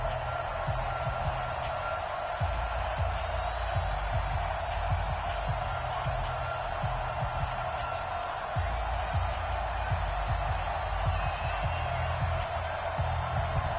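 A steady stadium crowd roar plays in the Madden 20 football video game as the Redskins take the field, a constant wash of cheering with faint voices beneath it.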